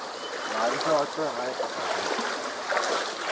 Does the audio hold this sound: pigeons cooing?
no